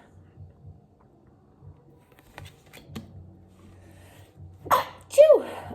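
After a few quiet rustles and clicks, a loud nearby sneeze bursts out, followed by a short vocal exclamation.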